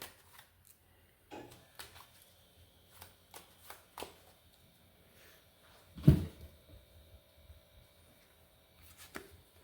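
A deck of Yu-Gi-Oh trading cards being shuffled by hand, with irregular soft riffles and taps close by, plus one louder thump partway through, in an otherwise quiet room.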